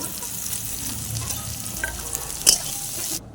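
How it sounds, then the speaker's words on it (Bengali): Onions fry in a wok with a continuous bright sizzle and a clatter of stirring near the end, close and fairly loud. "কড়াইয়ে আমি দিয়ে কিছুটা পরিমাণে পেঁয়াজ এটাকে আমি ভেজে নেব"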